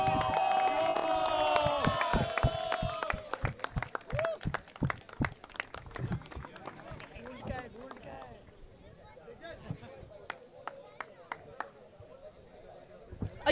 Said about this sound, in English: A huge round of applause for the Sanghvi group